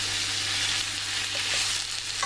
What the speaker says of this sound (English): I'll just turn up the heat a little bit. And I'll stir away at that.